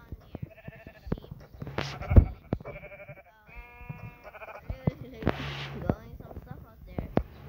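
Several Minecraft sheep bleat in short, repeated calls scattered across the clip, mixed with clicks and game-like effects, with a person talking at times.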